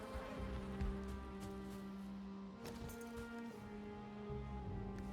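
Bees buzzing in the Valheim game, a steady, continuous insect drone with layered humming tones, moderately loud and close, running throughout alone without talk.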